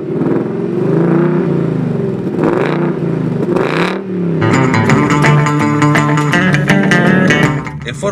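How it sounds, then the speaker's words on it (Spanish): A Ford Mustang GT with a 5.0-litre V8 and 10-speed gearbox revs loudly, a deep throaty roar swelling and dropping, then a sharp blip climbing into a harsh, rising howl close by. "Motor 8 cilindros, 5 litros y 10 velocidades. Y un ruido increíble."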